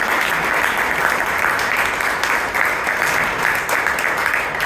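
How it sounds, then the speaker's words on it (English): Sustained applause from an audience at a Toastmasters club meeting in Bangalore, a dense, even clatter of many hands clapping that fills the whole stretch at steady volume, with no talk over it. "Can we have a big round of applause?"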